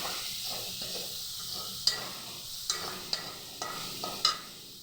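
Red chilli powder and turmeric fry in a pan for a potato and cauliflower curry, giving a quiet, steady sizzle with several sharp spoon scrapes and taps as the spice mix is stirred, close by and without talk.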